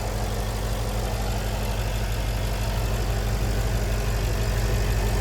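A 2014 Porsche Panamera GTS's 4.8-liter naturally aspirated V8 idles close by with a steady, deep rumbling throb, constant and unbroken, with no voices present.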